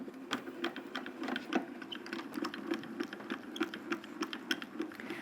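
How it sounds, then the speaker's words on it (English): A Grand Calibur die-cutting machine rolls an embossing folder sandwich of gray base plate and red adapter plate through, giving a faint, close, steady ratcheting clatter of quick irregular clicks over a low mechanical hum. "And we're going to run it through the Grand Caliper."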